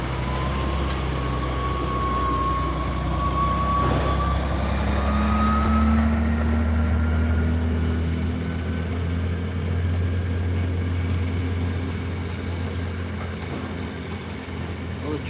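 A pulling tractor engine rumbles low and steady at a live pulling event as it heads up the track, with a rising whine and a few tonal beeps, while an announcer talks over it.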